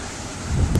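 Gusts from Hurricane Earl buffet the microphone outdoors in Halifax, Nova Scotia, a short burst of rumbling wind noise that swells louder in the second half.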